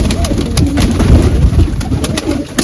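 Pigeons cooing steadily in a rooftop loft of flying and large pigeons, a pair perched up high. Soft, continuous throaty coos close by, layered over one another for the whole stretch without pause.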